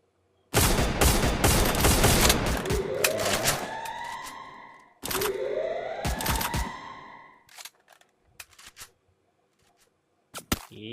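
Gunfire in a competitive video game match: two loud bursts of rapid shots, each trailing off into ringing echoes, followed by a few scattered quieter single shots.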